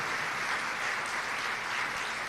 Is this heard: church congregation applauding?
yes